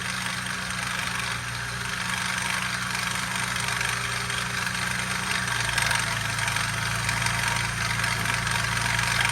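A car engine idles steadily with a rough, grinding whir from an idler pulley beside the alternator, a continuous close-up drone with a slight shift in pitch midway.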